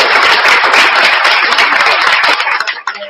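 Dense, sustained applause from a crowd, loud and steady throughout, thinning and fading out in the last moments.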